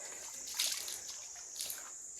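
Hands being washed in very cold spring water outside a Shiv temple, with a faint steady trickle and a couple of soft splashes, quiet and close, with no talking.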